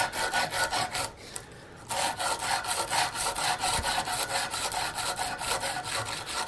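Sandpaper rubbing steadily along the channel of a wooden gun stock for an Investarms Gemmer Hawken rifle, a close, continuous rasping in quick back-and-forth strokes with a short pause partway through.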